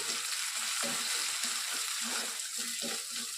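Mint leaves and chicken fry together in a pan for a chicken roast, a steady close sizzle with soft rhythmic scraping as the mix is stirred every few beats.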